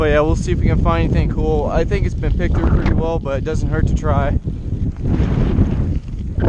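Strong wind buffets an outdoor microphone, a constant low rumble and roar that fills the clip, while a person talks over it.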